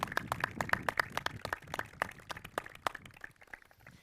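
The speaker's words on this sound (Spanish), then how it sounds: "te recibimos con un fuerte aplauso igualmente" A burst of clapping from a crowd, quick irregular claps that thin out and fade toward the end.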